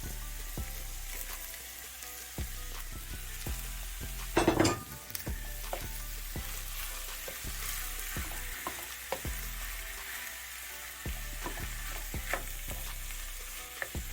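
Flaked saltfish sizzling in a frying pan for Jamaican ackee and saltfish, a steady fry with repeated stirring and utensil taps against the pan, one louder scrape midway.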